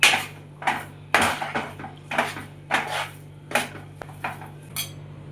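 Wheat flour being added slowly and stirred for rava kajjaya, a steady series of close metallic clinks and scrapes from a spoon against the pan, roughly one every half second, with no talking.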